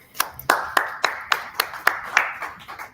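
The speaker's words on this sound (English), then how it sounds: "Round of applause for Scott." A small group clapping at the close of a data visualization class demo, about a dozen sharp, evenly spaced claps in a steady rhythm, close and fairly light, with no talk over them.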